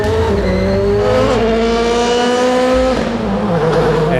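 Gymkhana car engine revving hard and accelerating up through two gears, a loud, close, continuous rising roar with a gearshift dip partway through, slight tire noise underneath.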